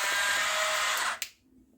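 An electric mixer whirs loudly and steadily while beating butter and sugar for a plum cake, then cuts off abruptly with a click, leaving near silence.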